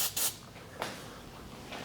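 Silicone spray lubricant hisses onto a car battery post during a battery replacement on a V6 Chevrolet Colorado or GMC Canyon, in two short close bursts, the first brief and the second slightly later.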